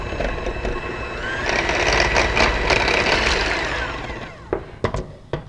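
An electric mixer whirs through tofu frosting made with powdered sugar, spinning up steadily, holding a buzzing hum for a few seconds, then winding down and ending in a few sharp clacks.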